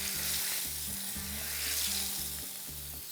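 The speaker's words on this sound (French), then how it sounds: "elle est très chaude parce que je veux juste venir sceller la viande, la colorer" Filet mignon sears in a very hot pan, a loud, steady, close sizzle with continuous hiss throughout and a low repeating hum underneath.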